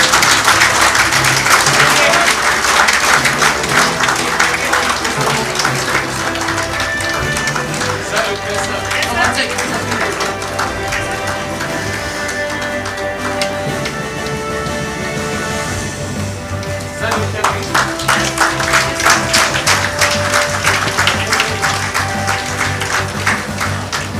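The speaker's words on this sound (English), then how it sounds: "a really big round of applause for sir." Audience applause at an official government ceremony during a certificate presentation, loud dense clapping that continues steadily throughout with a murmur of crowd noise underneath and a brief swell toward the end.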